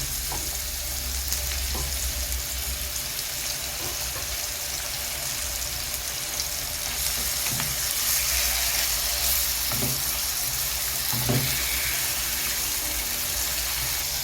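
Chicken slices sizzle steadily in a pan of oil with onions, a constant bright frying hiss with occasional stirring knocks, close and alone.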